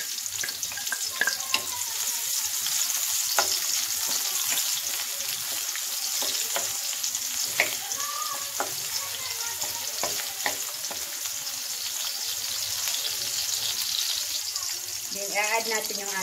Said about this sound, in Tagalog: So ngayon isusuti natin yung ating onion.